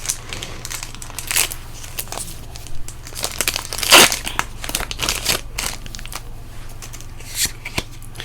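A foil Magic: The Gathering booster pack from a Phyrexia: All Will Be One set box is handled and torn open, giving close, crisp crinkling and shuffling with one sharp rip near the middle.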